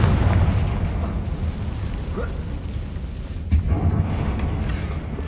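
A Confringo spell blast in the Hogwarts Legacy video game, a dense, loud, rumbling explosive roar that holds steady across the whole stretch, with a sharper burst swelling up partway through.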